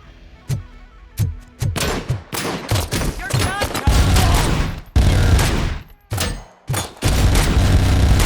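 Gunfire in Robocop Rogue City: sharp single shots at first, then heavy bursts and sustained automatic volleys with booming impacts, loud and close, broken by brief silent gaps.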